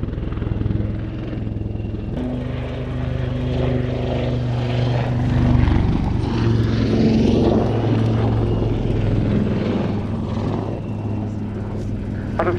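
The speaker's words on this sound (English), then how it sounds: "And here the aircraft's pulling up for another one of these kind of spiral loops." A propeller aircraft at an airshow pulls up into a spiralling loop, its steady engine drone loud and continuous throughout, swelling slightly as it climbs over the top.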